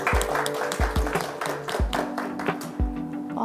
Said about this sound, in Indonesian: IBK Bayangkara MM, AK, CA, CMA, CCRA, CSP dengan tepuk tangan yang meriah.